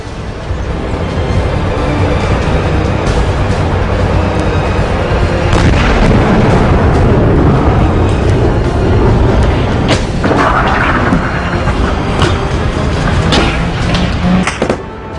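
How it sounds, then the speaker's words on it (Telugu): Bomb blasts hitting two Turkish military jeeps carrying soldiers during Kurdish–Turkish fighting, heard as a loud, continuous roar of booming detonations and rumbling with no speech. "సైనికులతో వస్తున్న రెండు టర్కీ మిలిటరీ వాహనాలను కుర్దిష్ సైనికులు పేల్చివేశారు బాంబుల ధాటికి ఆ రెండు జీపులు కూడా గాల్లో కొన్ని మీటర్ల ఎత్తులో ఎగిరిపడి"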